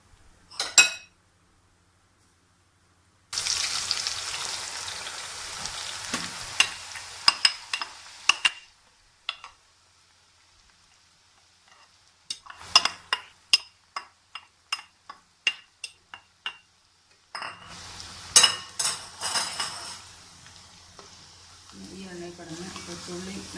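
Shallots fry in coconut oil, sizzling in bursts with sharp ticks and crackles, broken by silent gaps; a soft clatter of a utensil now and then.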